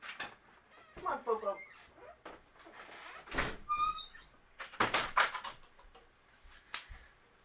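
A door opens to let a cat outside, with thumps, rattles and creaking sounds of the latch and door moving, while a person talks intermittently.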